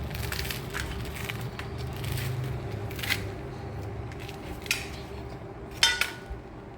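A knife cutting through a toasted cheese sandwich with melted cheese, heard close as steady crunching and scraping with a few sharper crackles near the end.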